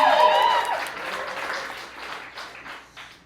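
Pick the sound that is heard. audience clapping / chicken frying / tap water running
audience clapping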